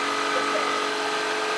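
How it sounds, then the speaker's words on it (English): A jigsaw cutting wood at a farm school woodworking session buzzes at a steady high pitch, loud and close, running unbroken with no voices. "The jigsaw can cut wood and metal."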